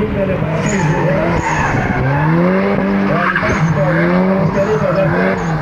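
Drift cars skid and squeal their tyres around a kart track at a Lagada drift event near Thessaloniki, engines roaring loud and continuous, with a commentator talking over the action.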